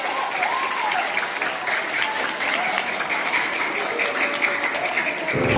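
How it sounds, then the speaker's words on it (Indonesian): Steady, dense clapping from a school assembly audience of junior high students, filling a large room and holding at an even loud level for several seconds. "Oke, tepuk tangan untuk kita semuanya."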